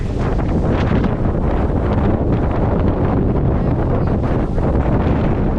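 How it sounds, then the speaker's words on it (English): Strong wind buffets a microphone outdoors at the snowbound Glamis dunes in February, a loud, steady roaring rush that fills the whole stretch with no voices. "We're gonna try to get out of the wind."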